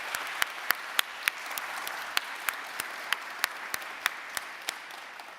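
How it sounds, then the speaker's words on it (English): Applause at a full council meeting for the interim chief executive: a thin, steady patter of clapping from a small group, with a few louder individual claps standing out, fairly distant and quiet. "Can we give him a round of applause, please?"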